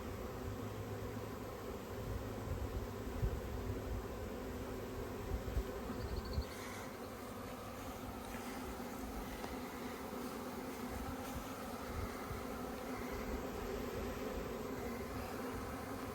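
A honeybee swarm buzzes in a dense, continuous hum, close and steady for the whole stretch, with occasional louder passes of individual bees and soft rustling, and no talking.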